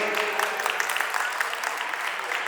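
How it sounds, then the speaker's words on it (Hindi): Continuous, dense applause from a large crowd at a devotional gathering, loud and sustained throughout without pause. "तालियां जोर से बजाइए थोड़ी।"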